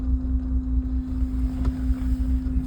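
A BMW E36 engine idles roughly and misfires, giving a steady low rumble with an uneven, stumbling pulse and a constant hum running through it. No one speaks.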